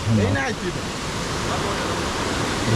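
Steady broadband rush of falling water from Shoilo Propat waterfall in Bandarban on a rainy day, fairly distant, with people talking briefly over it at the start and end.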